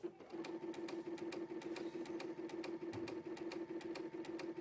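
A domestic sewing machine stitches diagonally across fabric with a steady, fast mechanical chatter of evenly spaced needle strokes over a constant motor hum, close and alone throughout.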